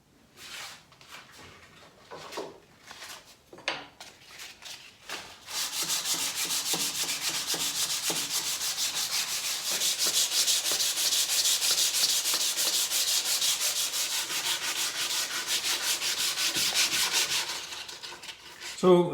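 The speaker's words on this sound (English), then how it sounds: "So I'll get on with sanding the rest of the legs." A few scattered scrapes and knocks, then continuous rasping sandpaper rubbed steadily against wooden table legs for over ten seconds, close and fairly loud.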